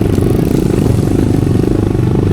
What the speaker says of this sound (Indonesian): Kita cukup menekan gas sekuat mungkin, agar motor tidak mundur ke belakang.